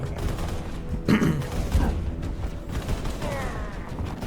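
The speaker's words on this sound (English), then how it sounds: "the bullets are counting down with the shots" Halo video-game gunfire: a short burst of shots, then a second report, cracking out over a steady low battlefield rumble, with lighter mechanical clicks toward the end.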